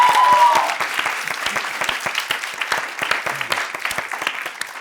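A studio audience at a comedy evening show applauds a singer with dense, sustained clapping that starts loud and eases a little, with faint voices underneath.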